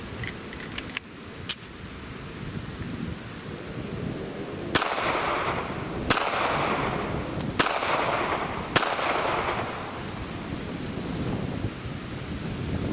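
Several sharp reports from a Ruger LCP pocket pistol firing factory ammunition outdoors, spaced a second or so apart over wind noise, with a few lighter clicks early on and no speech.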